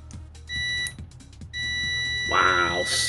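A Hanmatek S1 budget multimeter gives a steady high-pitched continuity beep, sounding in two short bursts and then a longer sustained tone, with clicks and handling noise around it.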